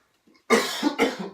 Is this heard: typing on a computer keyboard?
no